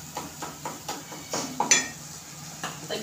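Ginger-garlic paste and asafoetida masala roasting in a pan for dried green pea curry, with repeated metal spoon scrapes and clinks against the pan at a steady rhythm over a faint low sizzle.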